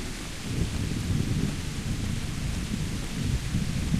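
Thunder rolls during a lightning storm in the video game Kingdom Come: Deliverance, a loud, continuous low rumble with a rain-like wash over it and no talk.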